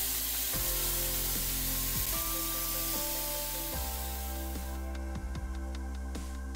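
Greek yogurt marinated chicken breast sizzling steadily in a pan, a constant loud frying hiss with a few scattered clicks and pops.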